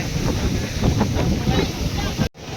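Sea waves wash ashore at Digha beach, their surges partly masked by strong, gusty wind buffeting the microphone throughout.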